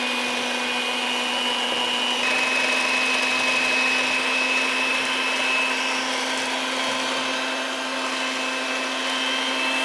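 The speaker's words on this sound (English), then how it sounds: "You're gonna slowly add the butter as you mix." An electric hand mixer whirs steadily and closely in a mixing bowl, beating eggs while butter is slowly added for a keto gingerbread cake batter, a constant motor drone throughout.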